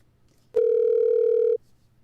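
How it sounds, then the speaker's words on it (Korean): A telephone dial tone sounds as a call connects, a single steady electronic beep lasting about one second, clear and alone over quiet background. "김 기자를 전화로 연결해 보겠습니다."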